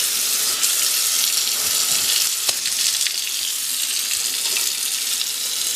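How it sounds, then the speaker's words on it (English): Water gushes steadily from a faucet into a sink, a continuous close hiss with a few faint clinks, no voices. "got the water turned back on"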